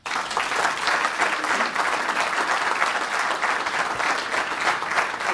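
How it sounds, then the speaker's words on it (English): A room of Rotary club members in Lima gives sustained, even applause at a changing-of-the-guard meeting, the clapping starting abruptly and continuing at a steady level to the end. "I think we ought to give him a round of applause"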